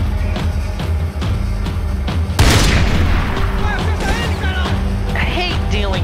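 Sniper fire rings out in Max Payne 3, a loud sharp boom cracking through a busy background of game noise, with smaller impacts and a voice heard over the mix.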